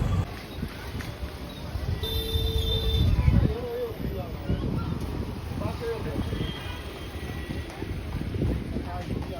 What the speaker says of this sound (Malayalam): നല്ല തണുത്ത കാറ്റ് വീശുന്നുണ്ട് കേട്ടോ നല്ല തണുപ്പാണ്